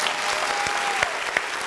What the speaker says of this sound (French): Les amis, applaudissez ça.